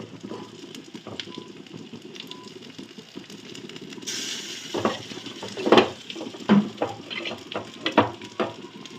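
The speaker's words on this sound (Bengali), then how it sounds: "দেখো একদম অল্প তেল দিয়েছি, এই অল্প তেলেই কিন্তু এই চর্বিগুলো ভাজা হয়ে যাবে।" Pieces of fat fry in a small amount of oil in a pan, with a soft steady crackle that breaks into louder sizzling pops and bursts in the second half.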